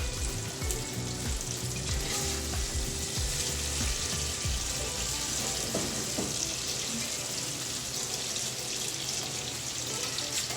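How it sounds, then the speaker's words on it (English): Capers in stock and caper juice sit at a gentle simmer in a pan, steady dense sizzling and frying hiss filling the sound with a few faint clinks, no talking. "Then we're just gonna let that come to a gentle simmer and reduce it slightly."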